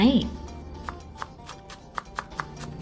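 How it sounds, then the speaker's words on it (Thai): Sharp, evenly spaced knife taps on a board as spring onions and coriander are chopped, about a dozen quick cuts, close by and moderately loud, after a brief burst of sound at the start. "หั่นเตรียมต้นหอมผักชี"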